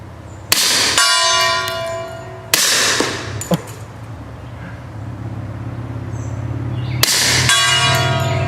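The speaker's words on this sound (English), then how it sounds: "Let's quietly sling a big chunk of lead at the gong." A heavy lead slug flung at a metal gong in a video game strikes three times, each a loud ringing clang that hums and decays slowly, with a low rumbling ambience underneath.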